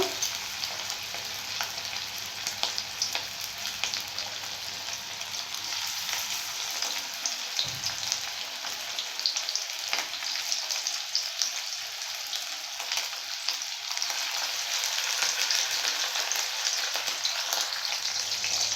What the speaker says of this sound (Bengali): তো প্রত্যেকটা এইভাবে ভেজে নেব